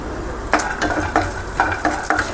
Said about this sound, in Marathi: फक्त एकदा तेलात टाकून फ्राय करायचे